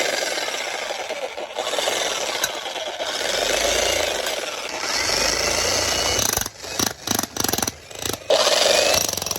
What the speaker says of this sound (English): I've never used a jackhammer before, but we're about to.